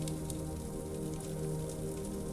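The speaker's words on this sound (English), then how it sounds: "The heavy rain splats upon the glass enclosure as you close the door behind you." Heavy rain splatters steadily on the glass panes of a sunroom, a dense, continuous patter with soft ticking drops close by, beside a low steady hum and no voices.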